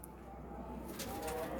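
Pigeons in a loft, a light pink-eyed bird among them, give soft low cooing that sits near the noise floor, faint and continuous across a quiet background.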